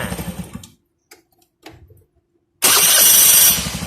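An old car with an aftermarket starter motor and an old battery cranks and stalls: a loud engine burst cuts out, then short weak starter attempts sputter, and a final strong crank roars up near the end.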